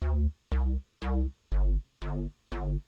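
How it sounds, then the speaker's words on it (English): A synth patch of a sine and a square wave at equal level through a resonant filter plays six evenly spaced, short, punchy bass notes with a bright swelling attack, loud and alone. "So this is just a sine wave and a square wave at the same level with the resonant filter on it"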